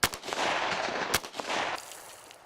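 Gunshots fired outdoors from a boathouse, sharp loud cracks at the start and near the middle, each followed by a long rolling echo over open surroundings.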